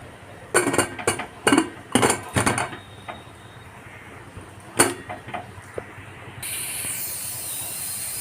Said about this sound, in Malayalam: ഞാൻ കുക്കർ മൂടി വെച്ചിട്ടുണ്ട്